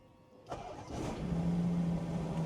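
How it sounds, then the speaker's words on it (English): A Ferrari Purosangue SUV's engine cranks and fires up with a sharp onset, then settles into a steady, low idle hum close by. "If I just start the car"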